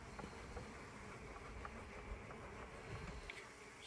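Honeybees drone in a steady, dense buzz at an open hive with frames being checked, a soft continuous hum with no voices.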